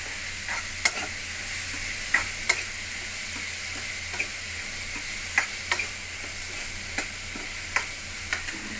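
Onions frying in a pan for a curry, a soft steady sizzle under repeated sharp clicks of a spatula tapping and scraping the pan at irregular intervals.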